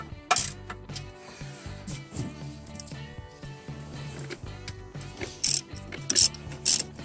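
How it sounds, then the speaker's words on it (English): Ratchet wrench tightening gearbox bolts on a Toyota Echo during a clutch and transmission install, several bursts of quick clicking close to the microphone, with some bursts louder than others, amid low mechanical rumble. "tighten those bolts, go to the bottom"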